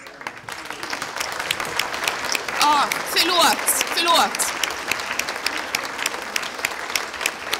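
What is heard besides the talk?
applause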